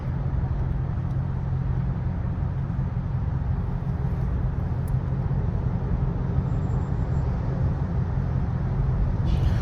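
A straight-piped Dodge Charger R/T driving through city streets, heard as a constant deep low engine drone and road rumble that stays steady and fairly loud throughout, no voices.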